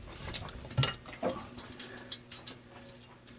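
A socket held against a valve spring retainer on a Subaru EJ257 cylinder head, pushed down to compress the spring and free the two retainers: a few faint, close metallic ticks and clicks spaced irregularly in a quiet room.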